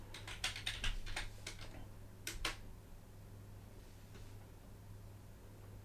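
A password typed on a computer keyboard: a quick run of close, crisp keystrokes followed by a couple of final taps, then quiet with a steady low hum.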